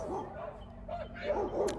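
Dogs at a farm home bark and yip in several short bursts, moderately close, as a delivery arrives, with faint voices around them.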